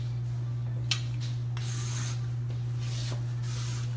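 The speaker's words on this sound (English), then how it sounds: "And then we're going to go in with a little marula spray." Short bursts of marula hair spray hiss from a salon spray bottle, about four quick puffs setting an updo, close and fairly soft over a steady low electrical hum, with no talking.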